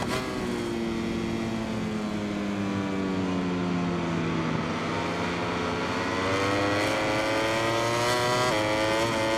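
Ducati MotoGP race bike engine from the MotoGP 21 game, a loud sustained high-revving whine that shifts pitch through gears down a straight, steady and close with no talk.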